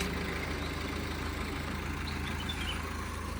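Car radiator fan running after a climb up the hairpin bends of the Kalhatti road near Ooty, a steady close whir with a low engine hum beneath, without talk.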